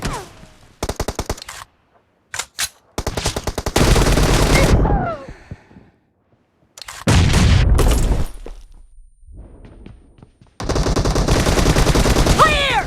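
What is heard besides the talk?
gunfire in PUBG Mobile video game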